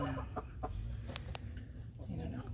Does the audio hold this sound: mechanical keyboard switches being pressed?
no